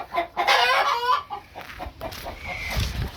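Chickens clucking nearby, with repeated short calls and a rooster's voice mixed in, busy and fairly loud.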